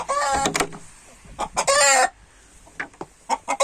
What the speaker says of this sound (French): comme je vois que le coq est là, donc j'ai qu'un seul couple de gauloises dorées pure race